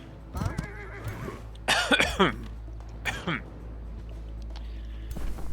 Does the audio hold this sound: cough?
yes